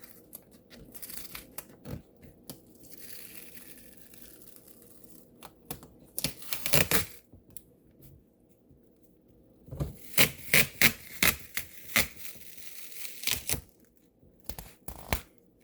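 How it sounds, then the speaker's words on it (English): Tape being pulled off a diamond painting in a quiet room: soft scattered rustles, then several bursts of quick, close ripping and crinkling, each a rapid run of sharp little tears with quiet gaps between them. "Take my tape off."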